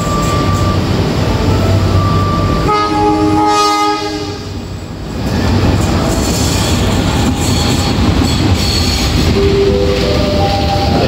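Progo passenger train rolling along track 9 at a station en route from Jakarta toward Lempuyangan, with a steady loud rumble of wheels and cars, a long horn-like tonal blast midway, and a brief dip before the passing noise resumes.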